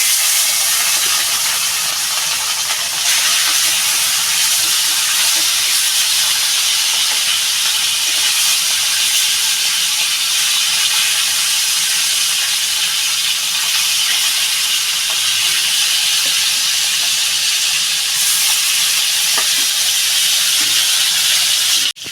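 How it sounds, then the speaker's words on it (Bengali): Tilapia frying in hot oil gives a loud, steady sizzling hiss that runs unbroken for about twenty seconds, with no voices. "তেলটা বন্ধুরা গরম হয়ে গেছে মাছটা দিয়ে দেবো"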